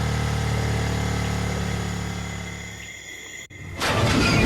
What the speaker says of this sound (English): She gunned the engine, and the bike accelerated, heading out into the plains